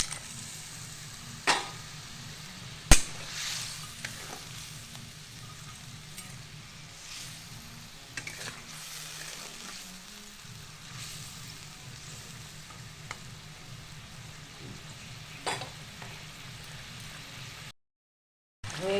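Foli fish simmering in a pan for a spicy Bengali jhal gives a quiet, steady sizzle and bubbling hiss, broken by a few brief clinks and taps from a utensil, with no voices.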